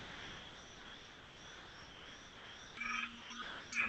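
Frogs croak at night after a full day of rain, a faint, steady chorus of distant croaks and trills with insect-like chirring, a couple of louder nearby calls rising toward the end.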